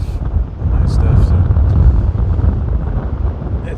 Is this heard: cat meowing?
no